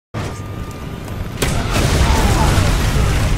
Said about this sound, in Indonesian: Awang memanah tumpukan dinamit dengan anak panah api yang membuat ledakan besar